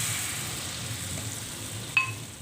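Peanut cracker batter fries in hot oil in a small wok, giving a faint, even hiss with a single sharp utensil clink near the end.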